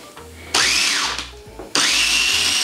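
A blender whirs loudly through thawed raspberries and their juice for a cheesecake filling, its motor surging up and dipping in pitch between bursts, close and alone with no talk.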